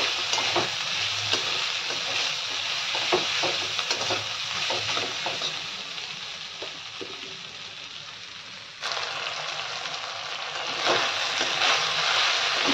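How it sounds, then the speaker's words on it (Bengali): Ginger garlic paste sautés in a pan, a dense close sizzle with scattered stirring knocks; partway through the sizzle briefly softens, then surges back louder, with no talking. "যতক্ষণ না আদা রসুনের কাঁচা গন্ধটা চলে যাচ্ছে ততক্ষণ আমি একে ভালো করে"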